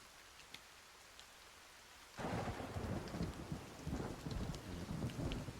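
A thunderstorm in the survival game Sons of the Forest begins with faint rain, then a deep rumble of thunder rolls in and keeps going beneath heavier rain, with no talk.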